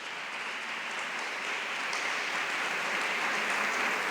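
Church audience applause at a talk on religious life: a steady, dense wash of clapping from a large crowd, sustained and even throughout with no voices.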